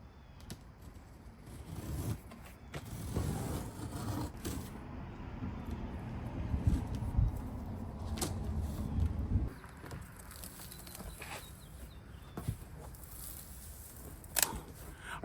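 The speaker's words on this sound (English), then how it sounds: "We're gonna unbox it" Packaging for a Racing Hart front wheel is cut and torn open, with crinkling, scraping and sharp snips close by, busier in the middle and sparser toward the end, with no talking.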